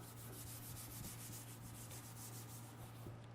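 A hand rubs steadily over rough car paint with contaminants embedded in it, before a clay bar treatment, giving a quiet, continuous scratchy rasp over a low background hum.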